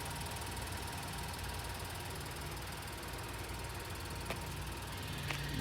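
A 2019 Vauxhall Astra 1.0 Turbo (105PS) Ecotec Tourer idles at a steady low hum, a continuous, even engine drone with faint ticking and no voices.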